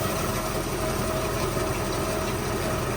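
A tractor runs with its mounted mower's PTO engaged. It makes a loud, constant drone of engine and driveline, close and unbroken for a few seconds.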